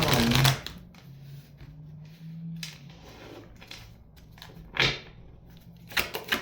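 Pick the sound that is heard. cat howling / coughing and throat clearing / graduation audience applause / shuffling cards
shuffling cards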